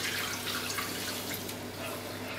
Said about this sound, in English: So then I add my 2 cups of stock.